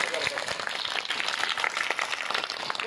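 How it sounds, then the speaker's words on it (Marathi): A school audience claps for the teachers at a retirement honour ceremony, a dense, steady wash of applause lasting the whole moment, with voices mixed into the crowd noise. "पुन्हा एकदा टाळ्यांचा कडकडाट करा सर्व शिक्षक आणि शाळेत"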